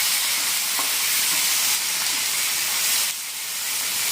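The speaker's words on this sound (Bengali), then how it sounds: "এখন এটাও ভালো করে ভেজে নেব" Chopped green chillies fry in a pan for a Bihari-style egg curry, giving a steady, loud sizzling hiss with no pauses and no voices.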